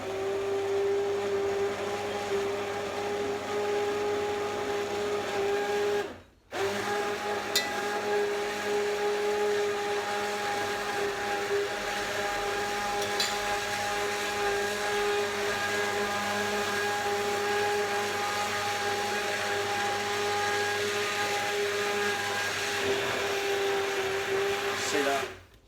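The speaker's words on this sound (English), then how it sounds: "I've got a stick blender at the moment." A stick blender whirs steadily at close range blending pepper and tomato soup for a long stretch, cutting out briefly once before running again.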